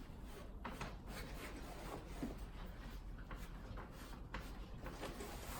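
A wax bar rubbed along the seams of Fjallraven trousers, giving a steady close scratchy rasping with short repeated strokes and no talking.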